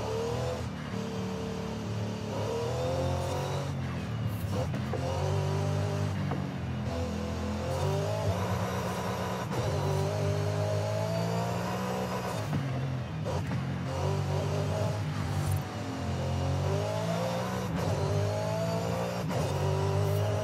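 A 2011 Bugatti Veyron Super Sport in Forza Horizon 5 on a track day, its engine droning loud and steady throughout with rising and falling pitch sweeps through gear changes, close and continuous with brief lifts.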